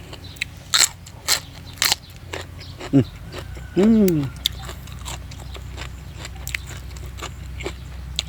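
Crunchy raw bitter gourd (bitter melon) being bitten and chewed alongside spicy pounded blue crab and fresh shrimp salad, giving a few sharp, close crunches and crackles, with a voice briefly sounding between bites.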